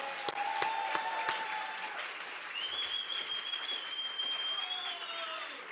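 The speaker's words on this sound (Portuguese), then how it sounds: "Vamos bater palmas para os irmãos universitários da USP" Church congregation applauding for visiting university students from USP, a steady wash of clapping with a couple of held tones ringing over it, fairly distant and even throughout.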